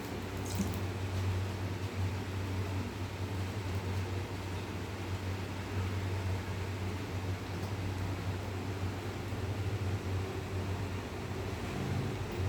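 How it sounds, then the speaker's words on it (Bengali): Cooking oil poured into a hot kadai, a steady broad hiss and low hum holding evenly for the whole stretch, fairly loud and close, with no talking. "কড়াইটা গরম হয়ে গেছে, তেল দিয়ে দেবো"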